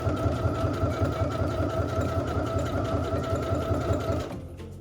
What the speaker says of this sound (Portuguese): Agora eu vou costurar o outro lado.